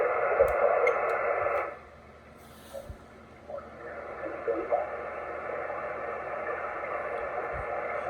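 Steady hiss and static from a Kenwood TS50 radio receiver, loud at first, then dropping sharply partway through before faint crackles and a lower, continuous noise floor return under what sounds like a weak, murky voice.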